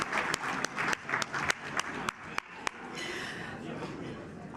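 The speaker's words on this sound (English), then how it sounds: "So give yourselves a round of applause, please." Audience applause at the Tikkun Ha'Lev Award Gala 2019, starting as scattered sharp claps and swelling into a steady wash of clapping from a large crowd, with a voice speaking over it.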